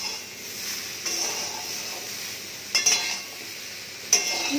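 Mixed vegetables stir-fried in a pan: a continuous low sizzle broken by a few sharp spatula scrapes and clinks against the metal, close and moderately loud.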